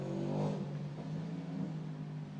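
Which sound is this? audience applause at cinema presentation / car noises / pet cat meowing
car noises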